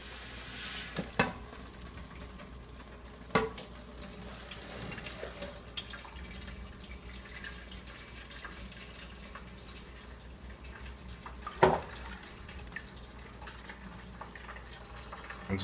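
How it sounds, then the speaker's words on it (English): Hot sparge water at 170 degrees poured over mashed grains for an all-grain IPA brew, a steady faint trickle and splash with a few sharper clunks, no talking. "Just rinse the grains with your sparge water."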